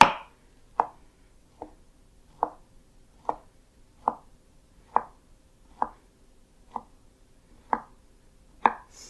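Knife finely chopping tempeh on a board, about a dozen crisp, evenly spaced single chops, close and clear against near silence.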